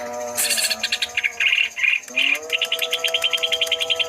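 A green leafbird (cucak ijo) sings alone at close range, a chattering, busy run of varied whistles, trills and rapid repeated chirps that keeps going without pause.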